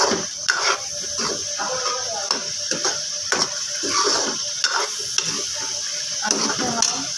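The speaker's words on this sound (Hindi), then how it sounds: "अच्छी तरह से टमाटरों को भूनें" Tomatoes frying in a pan for Lahori chicken, a continuous bright sizzle broken by repeated scraping stirs of a spoon, close and fairly loud, with no talking.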